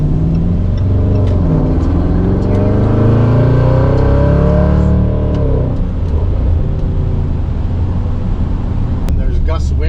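A Jaguar F-Pace SVR drives on a snowy highway, its engine droning loudly and steadily with a rising pitch sweep midway, while someone talks over it throughout.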